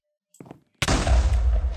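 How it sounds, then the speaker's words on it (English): A TNT block detonates in the Minecraft StoneBlock modpack: one loud, close boom with a heavy low rumble that fills the rest of the moment, after a few faint clicks and shuffles. "And this should make an explosion noise"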